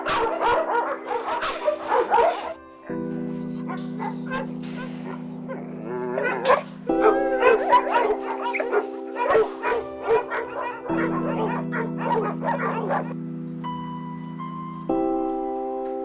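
Several dogs at a dog shelter bark, yip and whimper in loud overlapping bursts close by, set against steady droning musical tones that shift pitch every few seconds.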